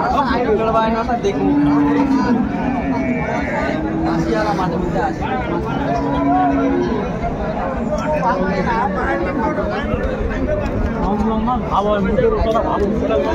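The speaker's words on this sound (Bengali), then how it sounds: "গাভী বাচ্চা আমরা দেখছিলাম এখানে" Sahiwal, Sindhi and local breed dairy cows with calves lowing at a busy village cattle market in Bangladesh, several drawn-out moos rising over constant crowd chatter and nearby talk.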